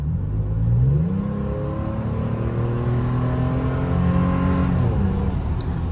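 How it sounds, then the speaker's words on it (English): A lifted 2007 Toyota Tacoma mid-sized pickup on 33-inch tires accelerates out of a corner, its engine droning and rising in pitch through the gears, loud and close from inside the cab, no talk. "I'm going to give it some gas right here after this little corner."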